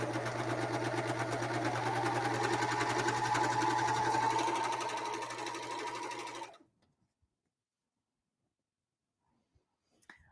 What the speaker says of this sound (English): So I've serged through both layers